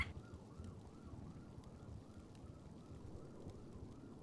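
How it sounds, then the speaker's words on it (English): Within the GTA NoPixel game, a faint police-style siren wails in steady repeating sweeps under a dull background rumble, continuing evenly for a few seconds with no talking. "It is so fucking loud. Like that siren is."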